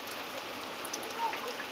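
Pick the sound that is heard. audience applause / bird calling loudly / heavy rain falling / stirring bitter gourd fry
heavy rain falling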